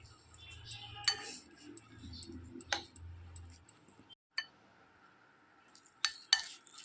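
Boiled greens being mixed with cumin, turmeric and chopped green chilli, heard as a few sharp clinks and taps of a utensil against a bowl among soft stirring noises, close and intermittent.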